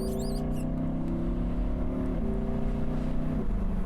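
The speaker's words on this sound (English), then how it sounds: "So you don't have to be thrashing the engine to get some great noises out of it." A car engine pulls under load in high gear, a steady low droning hum that drops in pitch twice as it shifts, with a brief high squeak near the start and no talking.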